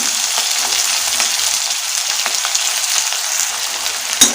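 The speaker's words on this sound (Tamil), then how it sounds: "இப்போ இதில் நறுக்கி வச்சுருக்க சின்ன வெங்காயத்தை எல்லாத்தையும் சேர்த்துக்கிறோம்" Steady sizzling of chopped small shallots frying in hot oil, a continuous bright crackle with occasional small pops, close and fairly loud, no voices.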